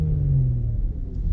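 Low, steady engine drone from a 2019 Infiniti Q50t Luxe sedan under throttle as its drive mode switches to sport, a faint rising hum riding over close, rumbling cabin noise with no voices.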